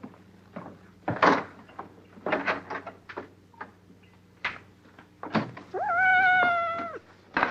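A kitten meows several times, short close calls scattered among thumps like a cupboard or door, ending in one long, clear drawn-out meow.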